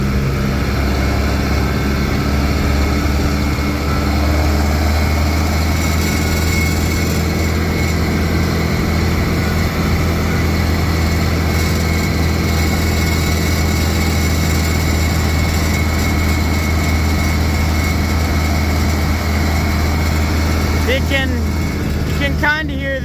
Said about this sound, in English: You can kind of hear the tractor work a little bit